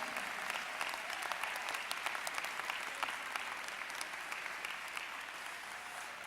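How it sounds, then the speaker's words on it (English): Steady applause from a large audience honoring graduates at a university college of education commencement, continuous dense clapping at moderate distance for the whole stretch, without speech. "give a round of applause to these graduates"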